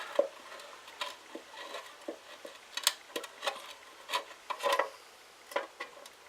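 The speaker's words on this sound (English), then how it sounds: "I've used the little reaming tool and I've cleaned up all the holes" A small hand reaming tool scrapes out holes in a plastic enclosure, making irregular soft rasping and scratching strokes, close and quiet with no talking.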